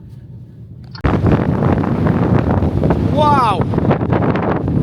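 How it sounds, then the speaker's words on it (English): Heavy wind buffets the microphone with a loud, constant roar after a sudden onset, while someone exclaims over it. "we can safely say it's a windy one"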